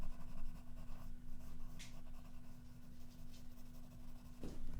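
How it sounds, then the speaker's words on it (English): A graphite pencil colours in circles on paper with quiet, continuous scratchy strokes close up. The scratching is faint and sits over a low steady hum, with no voices. "I apologise for my dreadful colouring in of the circles."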